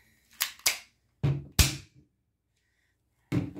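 Colt .25 ACP airsoft pistol firing 6mm BBs: several sharp snapping shots, two in quick succession, then two more after a pause and a final one after a longer gap, loud and close with no talking.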